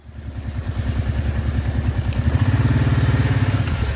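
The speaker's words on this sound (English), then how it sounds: "jump on the four-wheeler and head down there" A four-wheeler ATV engine runs close by in a steady, throbbing idle-to-cruise rhythm, pulsing evenly and growing slightly louder as it pulls away downhill, with no talking over it.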